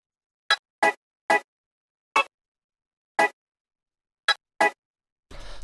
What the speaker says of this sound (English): the first sound that we have here is this chord stab